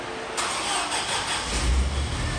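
A Zamboni ice resurfacer engine cranks and catches with a sudden surge, then settles into a steady, loud mechanical idle with a low rumble building underneath.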